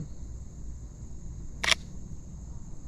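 A single crisp camera shutter click sounds once, close by, against a quiet, low hum, during night-time car photography.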